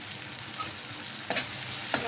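Peas drop into paneer masala Maggi frying in a pan, giving a steady, close sizzle with a couple of brief stirring scrapes near the end.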